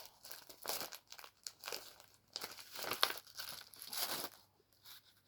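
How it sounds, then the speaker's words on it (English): Crinkling and crumpling of packaging or bags, heard during a cross-stitch chat, comes in irregular bursts of rustle that rise and fade over several seconds, fairly close and moderately quiet, with no talking. "Sorry if there's any rustling"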